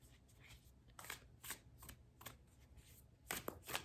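Soft riffling and snapping of tarot cards being shuffled, in quick bursts with brief pauses, close and fairly quiet.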